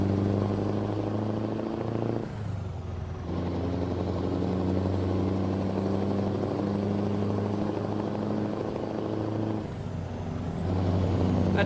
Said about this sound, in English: That truck sounds pretty good